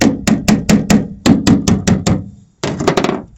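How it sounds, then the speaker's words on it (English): Repeated sharp metallic hammer blows on 1975 Cadillac Fleetwood sheet metal bodywork, a quick steady rhythm of about a dozen strikes with a short pause before another burst, close and loud. "Hammer out, hammer in."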